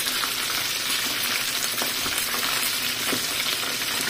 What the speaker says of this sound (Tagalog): Crispy fried chicken po. Homemade fried chicken.